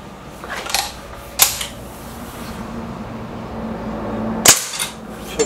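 Air rifle shots from a Remington War Hawk and an SMK XS36, sharp snapping cracks with a couple of fainter clicks between them, close by and with no voices.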